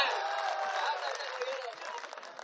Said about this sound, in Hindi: एक बार दोनों हाथ उठा, जोर तालियां।